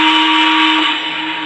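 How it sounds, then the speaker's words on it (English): A Lionel Legacy Western Pacific EM-1 2-8-8-4 model steam locomotive sounds its electronic steam whistle, a single loud, steady chord-like tone held about a second before easing slightly, heard up close and alone. "The whistle blows to confirm that it took the command."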